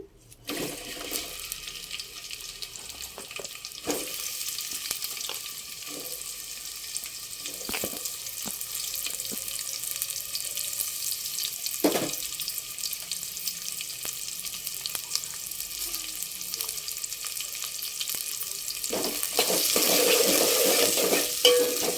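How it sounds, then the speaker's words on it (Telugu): Onions frying in oil in a pan for spicy chicken pulao make a constant hiss, with scattered spoon clinks and scrapes that swell louder toward the end, close by and without talk. "మనం ఫస్ట్ ఉల్లిపాయలు వేసేసుకుందాము"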